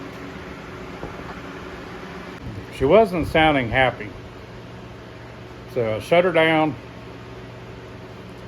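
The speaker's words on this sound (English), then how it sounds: "I got the fans going already this morning." Steady whooshing hum of electric fans running nearby, with someone speaking briefly twice over the constant background noise.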